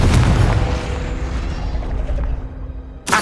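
A Confringo spell blast in the Hogwarts Legacy video game erupts as a loud, deep boom and then rumbles away over about three seconds, with a sharp new burst right at the end.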